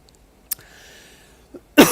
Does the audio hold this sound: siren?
no